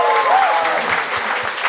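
Loud audience applause for two contestants on a stage show: steady, dense clapping throughout, close and continuous, with a faint crowd murmur beneath.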